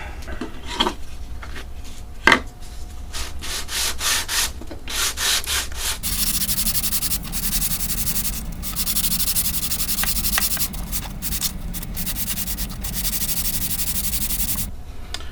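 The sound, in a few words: light sanding of a wooden key board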